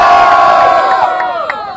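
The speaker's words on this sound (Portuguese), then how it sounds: "Barulho para Ponte." Crowd at a Brazilian street rap battle final roars with loud cheering and shouting, a dense burst of voices close by that fades slightly toward the end.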